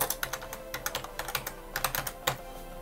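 Rapid, uneven clicks from typing on a computer keyboard, close and distinct, with short bursts of keystrokes and brief pauses, no voices.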